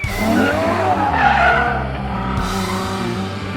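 A Ferrari 812 Superfast with its naturally aspirated V12 roars loudly past at speed, engine tone rising then falling with tire squeal, alone and close.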